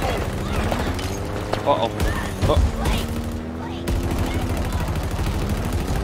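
Gunfire in the shooter game Halo, including rocket-like shots, crackling under steady engine drone, with a few sharper bursts and booms. Someone speaks briefly over it.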